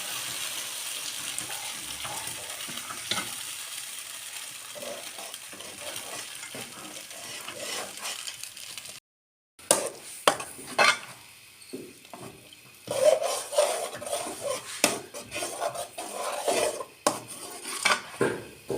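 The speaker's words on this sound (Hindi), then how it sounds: "और मुसलसल हिलाते रहेंगे इसी तरह हल्की आंच पर।" Makhandi halwa paste stirred steadily in a pan over low heat, a spoon scraping and clinking against the metal in repeated close strokes with a soft sizzle beneath and a brief silent break midway.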